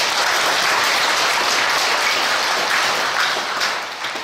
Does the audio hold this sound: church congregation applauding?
yes